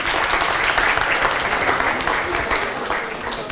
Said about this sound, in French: Et on peut les applaudir d'ailleurs au passage.